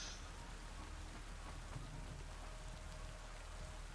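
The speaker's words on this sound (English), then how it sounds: "but it must be just the rain" Steady rain falls across the whole stretch inside the video game Satisfactory, a dense even hiss with no break and no voices over it.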